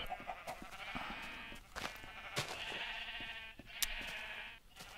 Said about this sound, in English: Yep, very noisy sheep.